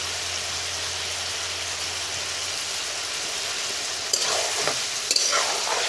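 Duck meat frying in a pan for an Assamese-style curry gives a steady, even sizzle, with a few brief stirring scrapes and bursts near the end as onions go in.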